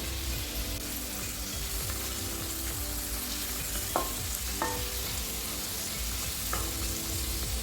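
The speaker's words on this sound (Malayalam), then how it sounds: "നെയ്യിൽ ഫ്രൈ ചെയ്തെടുക്കുമ്പോൾ നല്ല ടേസ്റ്റും നല്ല മണവും ഉണ്ടാകും" Sweet potato pieces sizzle in ghee in a pan, a continuous dense frying hiss with three brief scraping stirs partway through, close and steady, nobody speaking.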